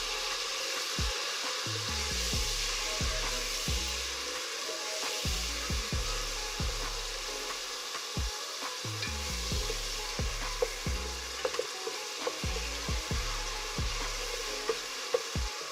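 Onion and tamarind water fry in a pan while being stirred: a continuous hissing sizzle, steady close scraping strokes in an irregular rhythm, and no talking.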